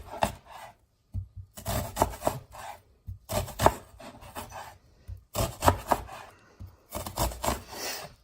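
A knife slices through garlic cloves on a wooden cutting board in short bursts of rubbing, scraping cuts separated by brief pauses, close and fairly quiet, with no talk.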